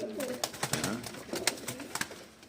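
Mardin tumbler pigeons coo close by, with soft, throaty, rolling calls that overlap and are mixed with light rustling and pecking clicks, and no talking.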